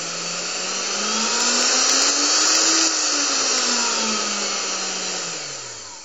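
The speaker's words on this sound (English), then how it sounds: "this old-fashioned router that I guess they didn't believe in variable speed at the time" An old-fashioned router with no variable speed control cutting hard maple gives a loud, steady high whine that rises slightly in pitch and then falls away over several seconds, with no talk.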